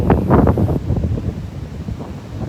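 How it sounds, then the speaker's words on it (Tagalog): Strong wind gusting across a Boracay beach during the northeast monsoon, a loud, continuous roar buffeting the microphone, heaviest at the start and easing slightly toward the end, with no voices. "Napakalakas ng hangin dahil sa amihan sa ngayon."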